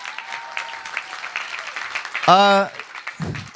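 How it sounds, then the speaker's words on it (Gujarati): Clapping from an audience at a Gujarati play, heard as a steady patter beneath a talking voice, followed by a short sung or cheering tone near the end. "અમારા કલાકારો તરફથી આટલા સુંદર પ્રેક્ષકો માટે તાળીઓ થઈ જાય"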